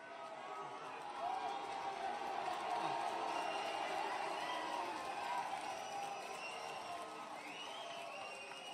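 A press-conference crowd for a UFC 305 fight in Perth roars with mixed cheers and boos, a broad swelling wash of voices that peaks midway and stays loud throughout.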